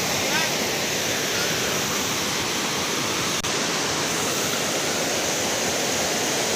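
Broad, steady rushing of the Sungai Tambra border river between Pemalang and Pekalongan regencies, flowing beneath the Kali Keruh bridge, a continuous close wash of water noise without pauses or talk.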